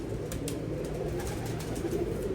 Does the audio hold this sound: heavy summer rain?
no